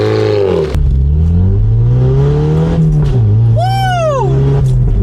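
A Mazda MX-5 engine revs hard and loud with rising and falling pitch, ending in a sharp pop, close by and continuous.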